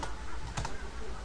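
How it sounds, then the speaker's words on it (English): Brief typing on a computer keyboard while entering a value in After Effects, one or two soft key clicks over a steady background hiss. "So I'm just typing 140."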